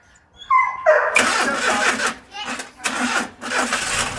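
A Chevy run low on oil cranks and starts, a yelping whine giving way to a loud, rough engine roar that surges and dips, with people talking nearby.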